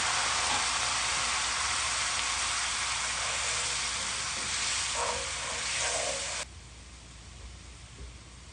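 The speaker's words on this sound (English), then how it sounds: "now I'm going to add my white wine with my saffron" White wine with saffron poured into a hot pan where shrimp have been searing, giving a loud, steady sizzle and hiss that cuts off sharply near the end, leaving a quieter simmer.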